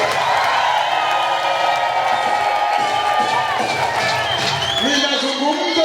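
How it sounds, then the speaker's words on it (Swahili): A church gathering audience claps and cheers in a continuous, loud wash of applause and voices, with a speaker talking over the crowd throughout. "Jipigie makofi."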